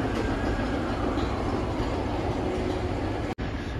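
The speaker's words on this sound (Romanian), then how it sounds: "Sosește trenul Interregio" An Interregio train rolls into București Nord station with a steady, loud rumble of wheels on rail that holds throughout, broken by one brief dropout near the end.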